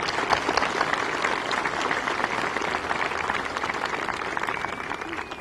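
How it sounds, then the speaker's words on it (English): A large audience at a college graduation ceremony claps in a dense, sustained round of applause, even and fairly loud, with a faint tone running underneath. "Please join me in acknowledging Eastern's dedicated professionals with a round of applause."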